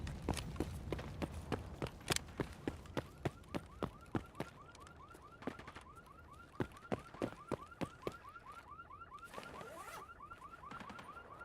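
A car alarm in a video game wails in rapid repeating chirps, fairly faint, mixed with loud sharp impact bangs and clatter of in-game action around it.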